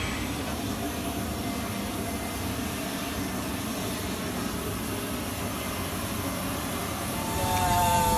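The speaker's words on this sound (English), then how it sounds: "We are on the plane, headed to North Carolina with the Kentucky National Guard." Steady, uniform cabin roar fills a plane carrying about 60 Kentucky National Guard troops to North Carolina, a continuous engine and airflow drone that swells slightly toward the end, with no talk.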